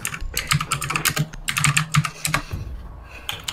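Rapid, dense typing on a computer keyboard during a Rainbow Six Siege gaming session, a close and continuous clatter of keystrokes with brief pauses and no talk.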